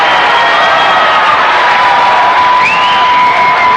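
A loud, roaring crowd at a high school basketball game between Gate City and Powell Valley keeps up sustained cheering, shouts and whoops after a made three-pointer and a foul, with a few piercing high-pitched shrieks rising above the din.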